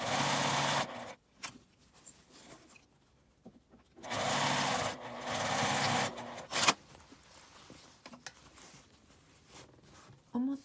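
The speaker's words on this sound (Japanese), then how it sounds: "表側に端ミシンをかけます。" A sewing machine runs edge stitching along the right side of a lined zipper pouch in bursts of steady whirring, with quiet pauses and small handling noises between the runs.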